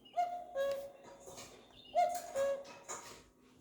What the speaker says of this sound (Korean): 옆에 걸 한번 눌러볼까요? 옆에 거는 뻐꾸기.